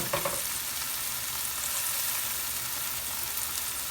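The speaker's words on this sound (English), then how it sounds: "Now we can add the garlic." Garlic frying in a pan for corned beef: a steady, close sizzle with a brief stir at the start, continuous and bright.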